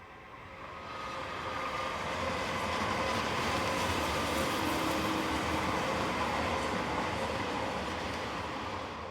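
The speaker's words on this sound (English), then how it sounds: "a pair of Class 535s head north with a Brieg to Bern local turn." A pair of Class 535 locomotives heads north with a local train from Brieg to Bern, a loud, steady rumble of rolling wagons that builds and holds close by, with no voices.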